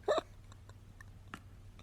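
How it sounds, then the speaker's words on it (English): A fart sound effect fires as one short, loud, buzzy burst right at the start, then trails off into faint scattered clicks and near quiet. "Shall I play another fart sound?"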